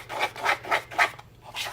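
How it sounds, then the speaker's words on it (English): A spatula scraping the bottom of a bowl of blue icing, four rhythmic rasping strokes close up followed by a softer fifth, with no talking. "Make sure you always scrape the bottom of the bowl."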